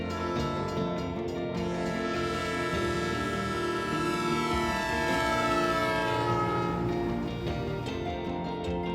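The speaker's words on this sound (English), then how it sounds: "you will catch one last train heading south down the track." A train heads south along a coastal track near a Southern California beach at sunset, its steady rumble and sustained horn-like tones filling the whole stretch continuously and fairly close.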